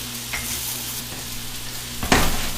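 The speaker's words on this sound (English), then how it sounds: "You can melt the butter." Butter melts in a hot pan as the base for a roux for pan gravy, giving a close, steady soft sizzle with a brief louder burst of crackle near the end and no speech.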